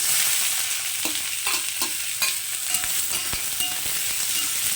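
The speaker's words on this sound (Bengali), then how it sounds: "তেলের মধ্যে পেঁয়াজ কুচিটা দিয়ে দিচ্ছি" Chopped onion sizzles in hot oil for a capsicum chicken dish, a close hissing fry broken by clicks and scrapes of a spatula stirring the pan, with no talking.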